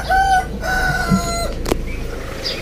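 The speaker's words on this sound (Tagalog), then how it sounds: "Ang ganda naman ng pahinga ng mga manok dyan" A rooster crows amid clucking chickens, the calls close and fairly loud over steady farmyard background noise.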